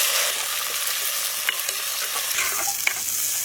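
Sliced large onions sizzle in hot oil as they are sautéed, a steady bright frying hiss close by with a few soft stirring scrapes and pops, no voices.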